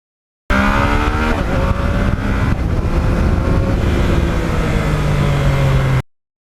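Yamaha MT-09 motorcycle ridden on low-traffic roads, its engine droning loud and close throughout with shifting revs and a falling pitch toward the end, and no talking.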